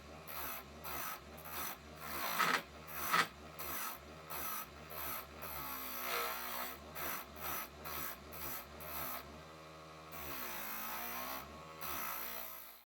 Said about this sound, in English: I used the parting tool to quickly remove material.